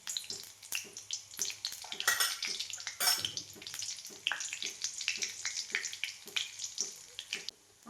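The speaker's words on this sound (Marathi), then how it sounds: "हे बघा तेल चांगलं कडकडलंय आणि आता त्याच्यामध्ये अर्धा चमचा जिरं टाकायला लागली आहे" Cumin seeds and turmeric dropped into well-heated oil crackle and sizzle steadily up close, with dense popping bursts and a continuous frying hiss, no talking.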